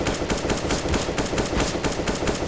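Rapid AK rifle gunfire in Counter-Strike on the Cache map, a dense continuous burst of loud, close shots with many overlapping rounds, no speech.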